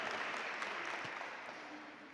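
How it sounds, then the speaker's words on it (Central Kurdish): An audience at a talk on tea breaks into applause, a fairly faint, steady patter of many hands clapping for a couple of seconds, slightly distant in the room. "چەپڵەیەک بە خۆمان"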